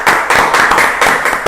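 A studio audience claps loudly and steadily in quick, dense rhythmic bursts, with no voices over it.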